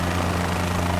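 A helicopter on a sightseeing tour over Brazil, flown from a private heliport over fields and beaches, drones steadily with its rotor and engine, a continuous close hum and throb with no talking.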